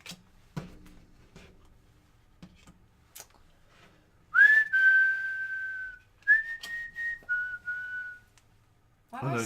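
Someone whistles a pop tune, a few sustained clear notes breaking into short held phrases after a quiet stretch with faint ticks and taps, close and fairly loud.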